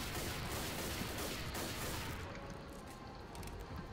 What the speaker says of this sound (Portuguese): Tiro de rifle.